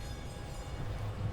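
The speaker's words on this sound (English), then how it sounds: "And I do hear the tram." A low rumbling tram rolls by steadily in Oranjestad, Aruba, a continuous heavy hum of wheels on track with faint clatter, fairly close and without any voices.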